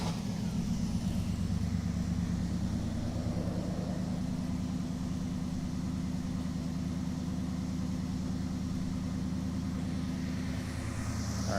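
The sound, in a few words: Dodge Charger engine running then idling down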